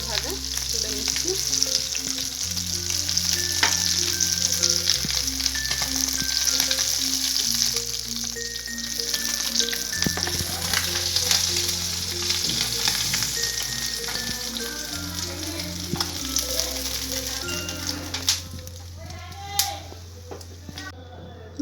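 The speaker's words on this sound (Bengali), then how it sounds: "হয়ে গেছে মাছগুলো ভাজা, তুলে নিচ্ছি।" Rai khoira fish frying in hot oil, a loud steady sizzle running throughout with occasional clinks of a utensil, under continuous background music.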